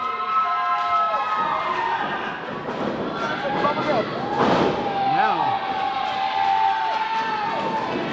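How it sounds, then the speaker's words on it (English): A crowd cheers wildly at a pro wrestling match, loud sustained roaring and shouting with whistles and a sharp slam, while an announcer talks over it. "listen to the crowd go wild for Bazooka Joe"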